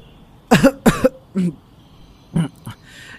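Someone choking on tea splutters into two strong, close coughs, then a few smaller coughs and a throat clear, all alone with no talk.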